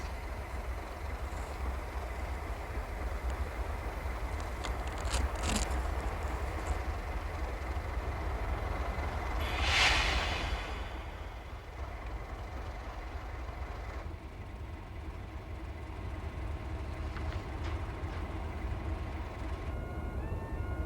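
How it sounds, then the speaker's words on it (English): A British Rail crane arrives by rail from Carlisle on the Settle and Carlisle line, heard as a continuous low rumble with a brief high squeal partway through, steady and moderately distant. "A British Rail crane arriving from Carlisle was to tackle the removal of the turntable for transfer to Keighley."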